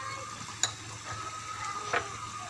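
Fried onion with nutmeg, mace and garam masala being stirred in a pan over a high flame for korma, giving a low steady sizzle with a couple of sharp scrapes of the spoon against the pan.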